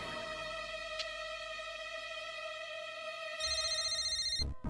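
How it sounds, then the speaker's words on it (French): A telephone rings indoors with a bright electronic ringtone, a steady sustained tone that shifts to a higher, busier pattern near the end before cutting off abruptly. "Le téléphone! Il commence à sonner dès que je suis assise."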